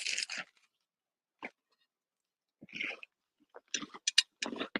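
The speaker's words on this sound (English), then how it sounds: "sorry to crunch in your ear." Someone bites into a flaky layered pastry, giving sharp close crunches: a burst at the start, a lone bite, then a cluster of crisp crackles near the end, separated by silence.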